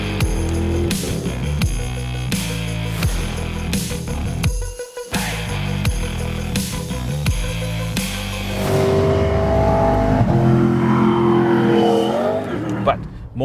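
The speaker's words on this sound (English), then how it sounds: "a Hilux Legend is not a car you'd associate with driving up a mountain pass" A Toyota Hilux Legend pickup drives up a mountain pass near Barberton, its engine droning steadily and rising in revs through the climb, up close and continuous, with someone talking over it.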